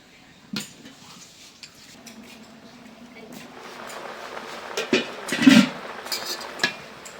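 A lid goes onto a cooking pot in a home kitchen, with a few metallic clanks and rattles building toward the end over a low background and some talk.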